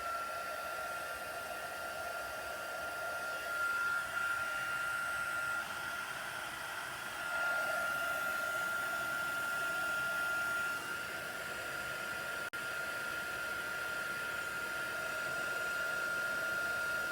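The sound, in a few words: heat tool blowing hot air on card powder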